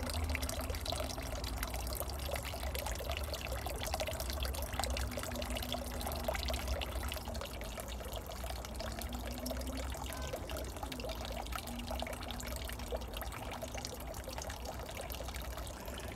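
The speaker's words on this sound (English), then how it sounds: "I just enjoy the sound of that running water." Water runs and trickles steadily without pause, a constant splashing flow like a small garden stream or fountain.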